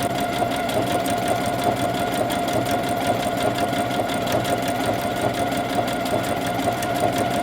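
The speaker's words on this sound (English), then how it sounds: "play with a sewing machine" A sewing machine stitches fabric for heart-appliqué towels, its motor running in a steady, fast, even chatter of needle strokes throughout, close and alone.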